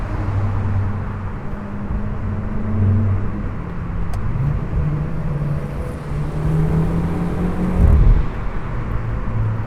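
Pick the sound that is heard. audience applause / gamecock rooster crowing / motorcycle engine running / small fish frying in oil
motorcycle engine running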